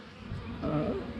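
Low, steady buzzing of many honey bees close by on a brood frame during a hive check, a soft continuous hum.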